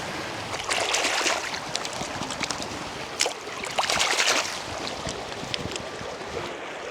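Hands sloshing and splashing in a muddy creek beside mineral-crusted banks, bursts of watery churning rising and falling in two main surges, fairly close and loud with no speech.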